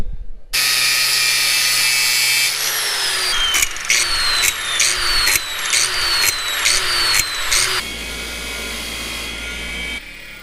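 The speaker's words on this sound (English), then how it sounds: "And then run it in a wire wheel." A wire wheel scrubs the threads of a homemade stud, a loud, sustained motor whine broken by repeated rising and falling surges as the metal is pressed against the spinning brush.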